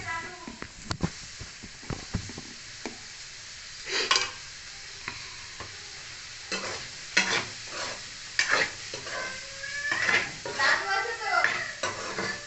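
Onions fry in a pan with a low background sizzle, broken by frequent clattering stirs and scrapes of a utensil against the pan, and a voice talks intermittently over the cooking.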